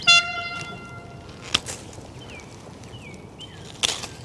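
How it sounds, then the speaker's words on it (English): A child's toy horn honks with a sustained, buzzy tone at the start, followed by faint squeaky toots drifting in from somewhere in a quiet suburban yard. "I'm sure you guys can hear that honking"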